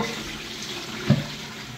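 A SIAMP wall-hung toilet is set to its full flush, giving a steady, moderately quiet wash of running water with one soft bump partway through.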